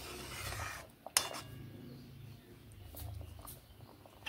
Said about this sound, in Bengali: ঘিগুলো মিশিয়ে নিচ্ছি এইভাবে